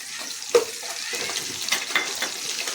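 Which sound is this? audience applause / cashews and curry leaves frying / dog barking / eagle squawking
cashews and curry leaves frying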